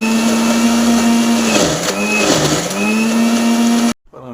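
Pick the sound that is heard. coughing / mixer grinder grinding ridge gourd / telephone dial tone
mixer grinder grinding ridge gourd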